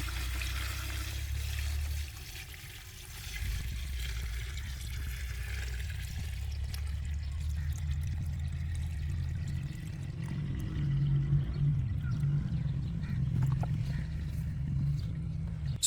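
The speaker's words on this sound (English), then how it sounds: "then pour in non-chlorinated water or rainwater" Non-chlorinated water poured steadily into a bucket, a continuous low gushing splash with a brief dip near two seconds, then a fuller trickling flow as the bucket fills, alone without talk.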